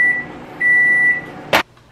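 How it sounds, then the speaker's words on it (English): A microwave oven hums while softening cream cheese, then gives one sharp beep near the end before going quiet. "So I'm gonna zap it in the microwave."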